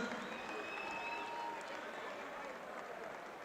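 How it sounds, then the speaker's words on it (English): A large crowd applauds steadily after a three-round fight, a dense wash of clapping that stays even throughout with faint cheers mixed in. "a big round of applause for both of these men"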